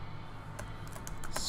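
Fingers type C++ code on a computer keyboard, a handful of soft separate key clicks over a low hum of room noise, getting slightly busier toward the end.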